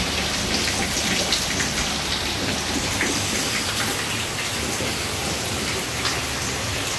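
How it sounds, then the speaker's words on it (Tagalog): Steady rain falls in Daet during a wet, windy spell, a dense, even hiss of drops pattering on surfaces, continuous and fairly loud with no voices. "Yan, tuloy-tuloy po ang pagtulo."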